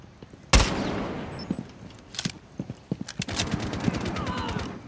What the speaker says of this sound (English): I shot her right in the face